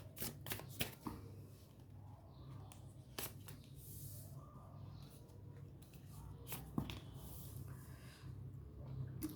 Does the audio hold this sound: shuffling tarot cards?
yes